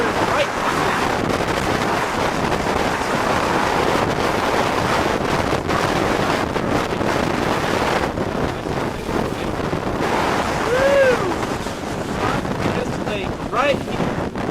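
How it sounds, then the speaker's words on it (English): A strong north wind roars steadily over open water surrounded by hills, buffeting the microphone with a constant loud rush throughout. "Got an extremely strong north wind blowing towards us"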